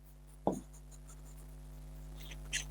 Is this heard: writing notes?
yes